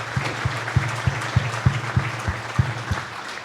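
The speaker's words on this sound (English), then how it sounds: "And I think that deserves a tremendous round of applause." Audience at a motor club celebration for a rally's 50th anniversary breaks into applause, a sustained roar of clapping from a large crowd, with a faint rhythmic low thump pulsing through it.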